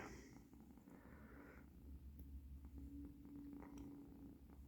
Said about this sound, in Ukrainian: Мурчить.